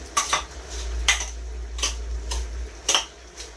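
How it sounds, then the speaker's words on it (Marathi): Urad flour dangar with raw oil is mixed in a bowl, a spoon clinking and scraping against it in four or five separate bursts, close and fairly loud, with no talking. "ते सगळं मिक्स करून घ्यायचं आहे आपल्याला"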